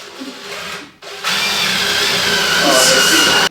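A loud power drill whirs briefly, stops, then spins up again and runs steadily close by.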